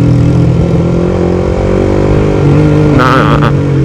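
A manual-clutch motorcycle carrying a passenger is throttled on a main road, its engine droning loud and steady with a harmonic whine, plus a brief higher burst near the end.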